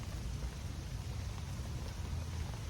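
Steady, soft rain hisses down onto trees overhead without a break, a gentle continuous patter with a low background rumble and no voices.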